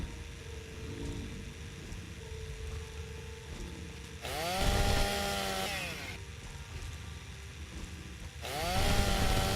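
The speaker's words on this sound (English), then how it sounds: "I go from one game with a chainsaw to another game with a chainsaw." Chainsaw in Fallout 3 revving in two loud bursts over a steadier idling motor, each burst rising sharply and then cutting back, with no talk.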